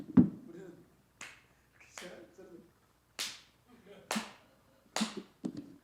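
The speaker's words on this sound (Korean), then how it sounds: "이렇게 박수를 치면서" A few sharp, separate hand claps at an uneven pace, close and fairly loud, with short pauses between them, demonstrating how worshippers clapped at a sect's service.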